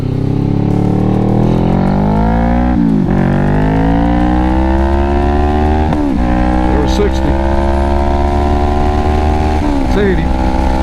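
Kawasaki Vulcan S motorcycle engine accelerating while riding, a loud close engine whose pitch climbs through repeated gear shifts with brief dips between, over wind rumble.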